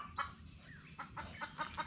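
Farmyard chickens clucking in a series of short, evenly spaced calls, fairly faint and slightly distant, with an occasional higher squawk and a low steady background hum.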